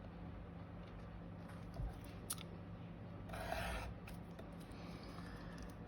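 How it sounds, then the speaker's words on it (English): Scissors cut through paper for a collage, giving quiet, close snips and rustling with a couple of sharper crisp cuts, heard faintly against a soft background hum. "So my bottom section, I'm going to cut across there."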